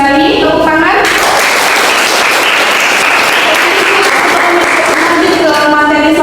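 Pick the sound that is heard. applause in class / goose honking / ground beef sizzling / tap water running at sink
applause in class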